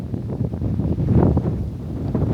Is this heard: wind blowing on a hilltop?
yes